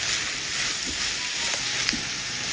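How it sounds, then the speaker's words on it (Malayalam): Sliced onions sizzle steadily in a hot pan while being stirred, a constant loud frying hiss with occasional soft scraping from the spoon. "ഒന്ന് ഇളക്കി കൊടുക്കാം. സവാള എല്ലാം നന്നായിട്ടൊന്ന് വാടി വരട്ടെ."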